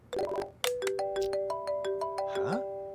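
A phone ringing in the video game Unheard: a bright electronic ringtone of repeated melodic beeps, loud and close, with a brief voice-like sound near the end.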